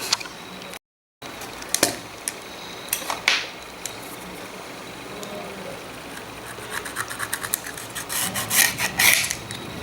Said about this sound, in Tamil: இந்த கேஸை க்ளீன் பண்ணும் பொழுது ரொம்ப மெதுவாக தான் பண்ணணும்